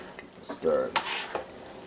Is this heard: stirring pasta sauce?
yes